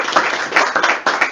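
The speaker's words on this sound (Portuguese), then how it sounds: "Uma salva de palmas para o meu irmão Cidinho" An audience at a Catholic preaching event applauding, a loud, close burst of dense clapping that continues in waves throughout the short moment.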